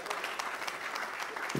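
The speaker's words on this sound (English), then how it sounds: "Clap for me now." A church congregation at Victory claps in a steady, continuous burst of applause, fairly close and even throughout, with a voice briefly rising at the very end.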